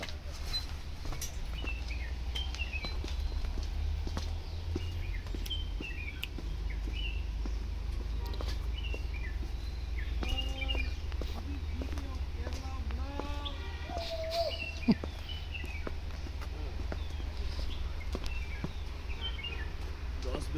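Birds in nature at Munnar, Kerala, with scattered chirps and short calls over a steady low background hum, a few clearer whistled notes in the middle.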